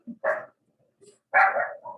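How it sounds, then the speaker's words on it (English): A dog barks at home, with two sharp barks, a soft yip and then two more barks in quick succession, close and fairly loud, with no talk over them. "my dog is barking."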